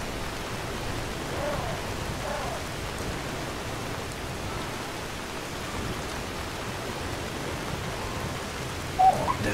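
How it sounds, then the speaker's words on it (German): Dense, steady rain hisses through the Enderal video game world, a soft even wash that fills the whole stretch with only a brief small bump near the end. "Der Regen hört sich gerade richtig dicht und kräftig an."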